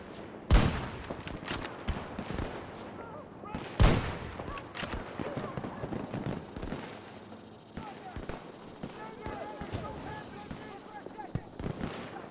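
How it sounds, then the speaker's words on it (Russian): Battlefield 2042 gunfire pops in scattered shots and short bursts, with two sharp loud cracks early on, while a player talks over the battle. "Я вроде в них стреляю, а что-то нифига не получается."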